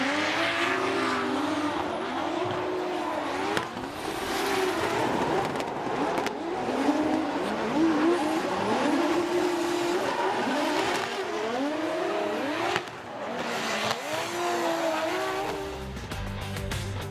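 BMW race cars in a drift competition at Okayama International Circuit, engines loud and near, revving and climbing through repeated gear pulls while tires squeal and skid throughout.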